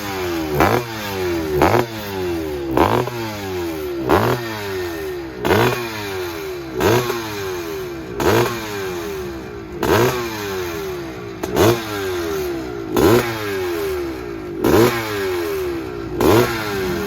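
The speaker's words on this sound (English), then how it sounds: "That's a 1981 Maico up against all these modern bikes." A 1981 Maico motorcycle races against modern bikes in a 60-plus class, its engine repeatedly revving up and dropping back in a steady rhythm of rising wails, loud and close with mechanical clatter beneath.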